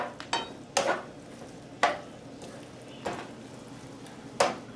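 Tongs toss a scalloped potato roll filling with wilting spinach in a bowl or pan, giving a few separate rustling, clattering strokes spaced about a second apart, close and without talk.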